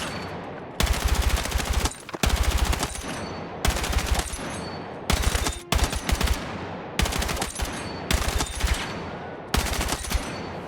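M433 assault rifle in Battlefield 6 firing in rapid full-auto bursts, about seven loud, close strings of dense shots separated by short pauses.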